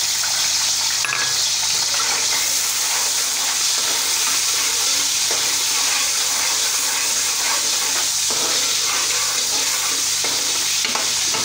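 Garlic and onion sautéing in hot ghee in a kadai, a steady bright sizzle and hiss with scraping stir strokes throughout, close and continuous with no voices.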